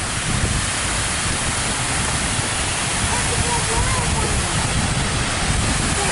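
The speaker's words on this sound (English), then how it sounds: "look at that thing right there by the big water" Water from Buckingham Fountain in downtown Chicago splashing and rushing, a steady loud broadband hiss that stays constant throughout, with faint voices beneath it.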